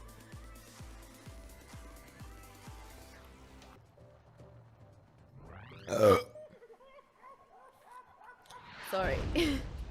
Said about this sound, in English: Rate that burp.